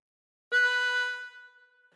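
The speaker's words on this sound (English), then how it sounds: "And breathe in through 3." One harmonica draw note on hole 3 rings out close and alone, a steady sustained reed tone that swells quickly, holds, then tapers away.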